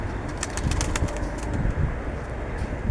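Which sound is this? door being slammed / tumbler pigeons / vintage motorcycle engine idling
tumbler pigeons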